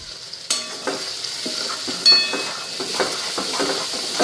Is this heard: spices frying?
yes